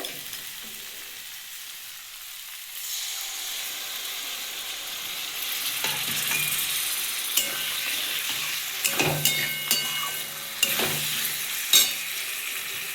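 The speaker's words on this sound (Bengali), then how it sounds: "আমি এবার গ্যাসের ফ্লেমটা একদম কমিয়ে আমি একটু টক দই দেবো" Sour curd is stirred into a sizzling cabbage masala on a low flame. A quiet hiss swells into steady frying, with repeated spoon scrapes and clinks against the pan, close up and free of talk.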